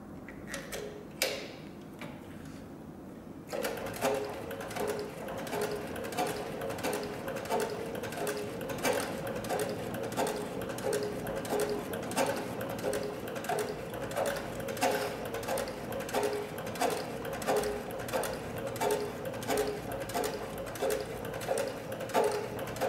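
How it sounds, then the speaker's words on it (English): A CB3200 sewing machine stitches through four layers of 8 to 10 ounce tooling leather, starting after a few brief knocks and then running with a steady, fast, evenly ticking mechanical rhythm close by. "the machine lays down, and also the fact that it's capable of putting down a very tight stitch"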